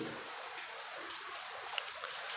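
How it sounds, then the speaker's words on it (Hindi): Light rain begins to fall, making a soft, even hiss of drops with a few faint individual taps, heard alone without talk. "और बारिश स्टार्ट हो गई है"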